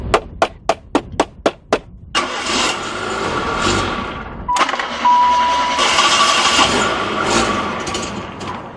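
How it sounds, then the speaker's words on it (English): A 1.1-liter four-cylinder Yugo engine cranks in a string of quick, even starter bursts, then catches on a cold start and runs loudly, surging and settling into a steady idle close by. "Our Yugo balked and stalled on cold starts, but when it got going, it gave all it had."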